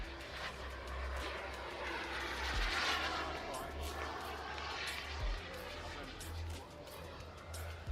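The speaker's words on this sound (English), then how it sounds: "So this is used as a land-based aircraft and also a carrier-based aircraft as well." An agile fighter jet, built for both land bases and aircraft carriers, roars past at an air show, a broad steady rumble that swells midway, with someone talking over it.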